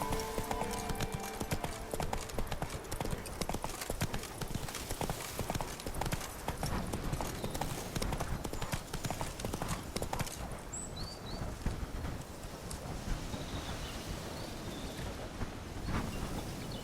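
Horse hooves gallop in The Witcher 3 with a rapid, steady clip-clop rhythm that stays loud and close throughout, accompanied by wind and faint background noise.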